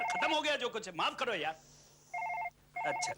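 A telephone rings in two electronic bursts after a short stretch of close, clear speech, with a brief silence between the rings, in a Hindi horror drama scene.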